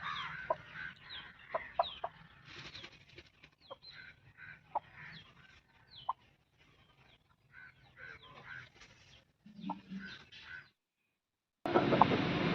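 A young Richvatam hen of Bhimavaram breed, heavy-bodied and close to laying, clucks repeatedly at close range in soft, irregular bursts. The clucking stops near the end, and a sudden loud burst of noise follows.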